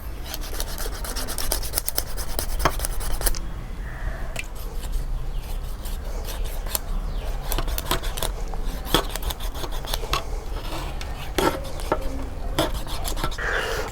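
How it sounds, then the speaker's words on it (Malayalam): Cutting the fins off a scaled fish during cleaning, heard as a steady close rasping, scraping sound with a few sharper snips, no talking. "ഇതിൻ്റെ ചിറക് നമുക്ക് കട്ട് ചെയ്ത് കളയാം."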